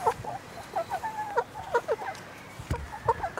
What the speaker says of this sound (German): Gucken Sie mal, wir haben Futter für die Hühner.